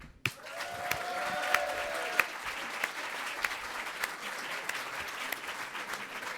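Conference audience at Devoxx France applauding JFrog, a steady wash of many hands clapping at moderate distance with a few louder claps standing out, continuing without talk.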